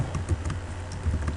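Quick keystrokes tap on a computer keyboard in a short, close burst of typing, alone.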